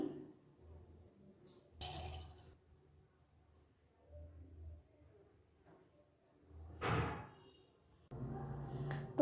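Boiled moong dal is poured from a pressure cooker into a draining strainer, with short splashy gushes of water and liquid pouring in separate bursts, heard up close in a quiet kitchen.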